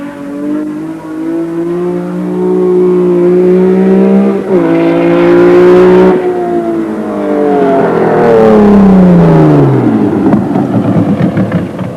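A BMW 745i E23 modified racing car in South African Wesbank racing roars past at about 250 km/h, its engine note climbing loudly, dipping, then swelling again and falling away as it passes close by.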